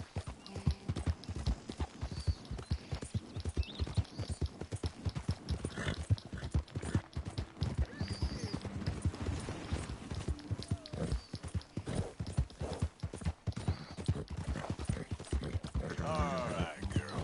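Horse hooves in Red Dead Redemption 2 clip-clop in a brisk, continuous rhythm for a long stretch, close and clear, with occasional snorts and a soft voice talking over it.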